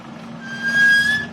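A vehicle's brakes give a single high, thin squeal lasting about a second, swelling and then fading, with no talk.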